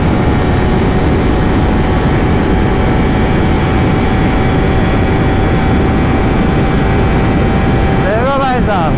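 A Kawasaki Ninja 300, BMW RR310 and KTM Duke 390 race together in a loud, constant engine drone, and a rising-then-falling whine sweeps past just before the end.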